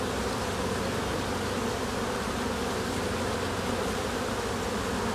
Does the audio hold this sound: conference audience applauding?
no